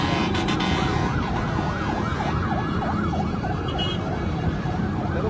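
Wailing ambulance siren rising and falling continuously at a house fire on Luzon Avenue corner Commonwealth in Quezon City, loud and steady over dense crowd and street noise.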